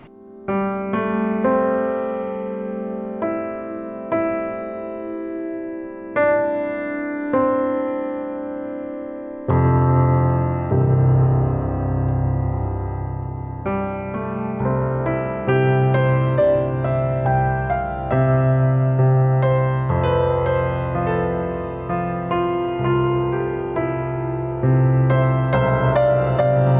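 A piano plays the hymn Amazing Grace alone, sustained chords and a melody unfolding steadily, growing fuller and louder partway through.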